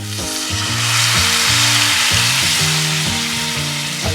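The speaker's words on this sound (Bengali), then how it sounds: "এই টাইমে আমি ঈষদুষ্ণ জল অ্যাড করছি।" Lukewarm water poured into sizzling fried masala sets off a loud, dense, continuous hiss that stays strong throughout, with a steady tonal hum beneath it.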